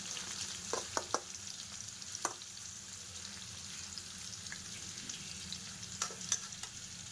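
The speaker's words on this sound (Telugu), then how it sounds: "ఇలా ఆయిల్లో ఫ్రై చేసుకోవాలి." Food deep frying in hot oil, a soft steady sizzle with occasional sharper pops and crackles, fairly quiet and close, with no voices.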